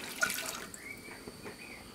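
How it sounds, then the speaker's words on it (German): Water is poured into a cooking pot on a gas stove, giving faint splashing and trickling with small bubbling drips, fairly quiet and close. "Dann kommt das Wasser in den Topf."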